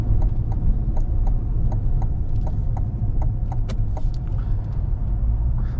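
A C8 Corvette Stingray Convertible, the mid-engine model, pulls away after being shifted back into drive, its engine giving a low, steady rumble close by with faint ticking and clicks on top, and no talk.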